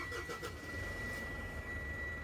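Engine of a 2018 Mitsubishi Pajero Sport cranking briefly and catching, then settling into a quiet idle, heard faintly and close with a steady high electronic tone running through.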